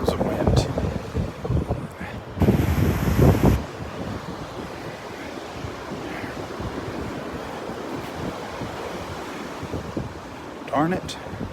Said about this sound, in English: Oh, it's windy. There comes the wind.